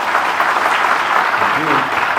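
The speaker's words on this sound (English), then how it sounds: "can we have a huge round of applause for Amogh sir?" Dense, steady audience applause fills a talk-show style leadership event, a continuous loud patter of many hands clapping with no gaps, a few voices faintly mixed in.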